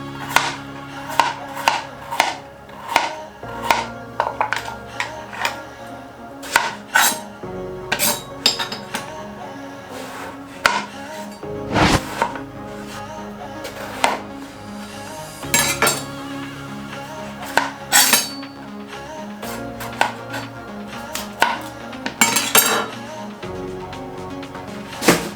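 A knife chops chicken, eggplant, cauliflower and carrot steadily on a cutting board, with irregular knocks and clinks of kitchenware throughout, close and fairly loud.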